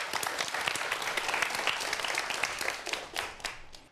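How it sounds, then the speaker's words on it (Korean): Audience applause greets a guest lecturer on a Korean TV science-investigation talk program, steady dense clapping sustained for several seconds before tapering slightly near the end. "박수 부탁드리겠습니다."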